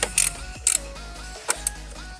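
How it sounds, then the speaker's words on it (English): Ratchet wrench working a part loose on a 2009 Nissan Xterra during a tune-up, giving a few sharp metallic clicks and scrapes in short irregular bursts, close by and without speech. "Let's get it off. Ratchet and wrench is awesome."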